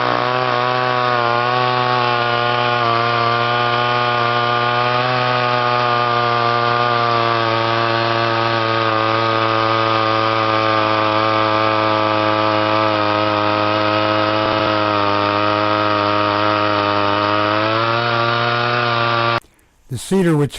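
Chainsaw limbing a cedar tree with heart rot, its engine held at a steady high-revving drone for about twenty seconds before cutting off abruptly near the end.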